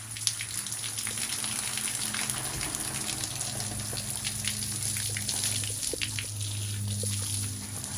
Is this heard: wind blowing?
no